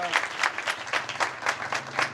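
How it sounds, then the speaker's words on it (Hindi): A church congregation at a prayer and praise service claps in strong rhythmic surges over about two seconds, with voices calling out beneath the applause. "जोरदार तालियां बजाएं इस बात के लिए"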